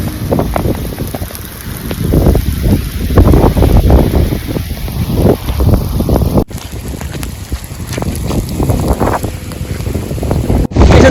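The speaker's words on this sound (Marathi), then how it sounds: "एवढा पाऊस जोराचा चालू झालाय की रस्त्याला पाणी सुद्धा झालंय" Heavy rain pouring outdoors with water running on the road, a loud continuous roar of rain and rushing water mixed with heavy wind buffeting on the microphone.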